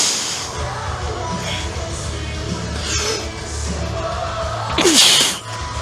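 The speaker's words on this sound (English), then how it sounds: "I just sneezed into the fucking microphone" A single sharp sneeze lands close into a microphone, a loud bright burst near the end rising out of a steady murmur of background room noise.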